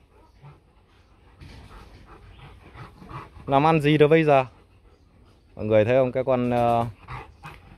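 A dog that is half German breed gives two long, loud, drawn-out whimpering cries close by, after a person speaks quietly.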